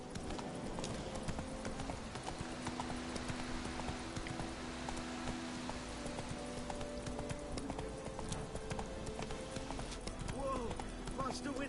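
Roach, a horse in The Witcher 3, moves at a steady clip-clop of hooves over a low game soundscape, with someone talking over it now and then.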